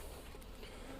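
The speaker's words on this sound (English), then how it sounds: "There's bees in there." Honeybees buzzing inside an overwintered colony at an apiary, a steady dense hum lasting about a second, close and continuous with no voices.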